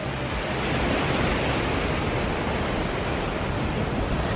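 Sea waves crash into the Bogey Hole ocean rock pool in a loud, continuous, close-up roar of churning surf with no voices.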